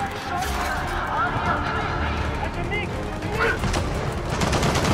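Rapid turret gunfire and bursts of combat in the video game Gears of War 4, steady and loud throughout, mixed with game effects and voices talking over it.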